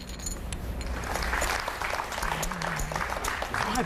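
Audience applause around a televised poker table, moderate clapping under a commentator's voice speaking throughout.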